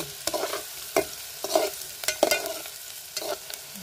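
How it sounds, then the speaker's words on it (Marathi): Onion fries in a pan and is stirred repeatedly, giving soft scraping strokes every half second or so over a faint sizzle, close and fairly quiet with no talk. "कांदा पूर्ण भाजून घ्यायचा ना, भाजायला लागतो कांदा,"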